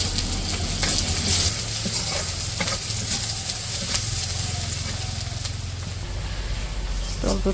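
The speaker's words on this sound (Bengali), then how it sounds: "পেঁয়াজ আর রসুন দিয়ে দিল।" Onion and garlic frying in oil in a kadai for a halim tempering, giving a steady loud sizzle with scattered scraping stirs and a low background hum.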